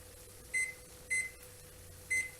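A kitchen timer set for the oven gives three short, high electronic beeps, evenly spaced about half a second apart, over a faint steady room hum.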